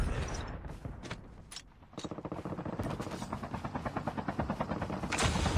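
A helicopter in the mobile video game Call of Duty: Mobile thrums with a rapid rotor chop that grows steady and loud, mixed with game mechanics and gunfire clatter.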